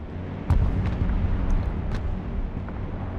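Rocket artillery in a real-time strategy war game, with a heavy low rumble, a sharp boom around half a second in and a few lighter pops over continuous battle noise.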